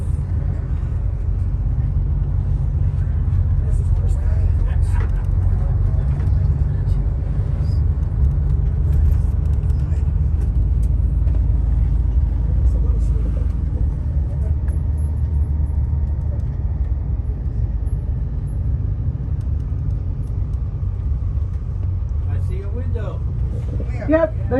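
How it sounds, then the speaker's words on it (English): Tour bus winding through the mountain curves of Zion National Park, a heavy, steady low engine rumble and road drone heard from inside the cabin, continuous and loud throughout, with a voice speaking briefly near the end. "I cannot imagine how hard it is to maneuver these curves in a bus."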